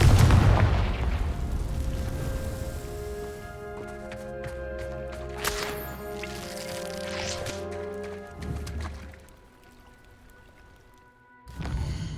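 Confringo fire spell exploding in the video game Hogwarts Legacy, a loud blast at the start that rolls into a long rumbling, sizzling tail under a background music drone, with a sharp burst near the end.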